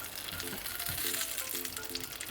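Cashews and fennel seeds fry in hot oil with a continuous close crackling sizzle, with faint utensil taps and stirring underneath.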